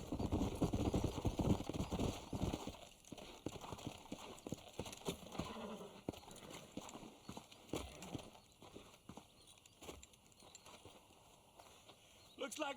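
Horses' hooves clip-clop in the Red Dead Redemption video game, a busy trot that slows into scattered, softer steps, with talk in the background.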